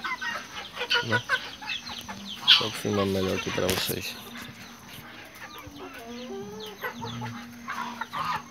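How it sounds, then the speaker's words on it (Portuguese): A young Índio Gigante rooster penned with clucking hens, close-up bursts of clucks and squawks amid a farmyard, with someone speaking briefly over the birds. "Esse frango eu coloquei aqui junto dessas galinhas para ver se ele toma jeito"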